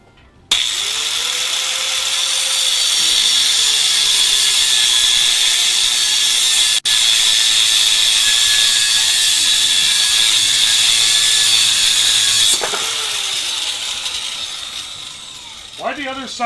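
A power tool cuts metal for a budget long-range ebike build, a loud, steady grinding roar that runs for about twelve seconds before stopping abruptly, with faint rustling and handling noise afterward.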